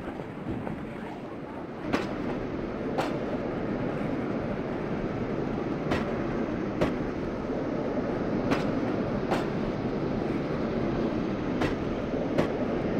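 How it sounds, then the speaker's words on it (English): Disneyland Railroad train running on its rails, a soft continuous rumble with regular clicks from the rail joints every second or so, heard from aboard at moderate distance with no talking. "please remain seated till the train comes to a complete stop"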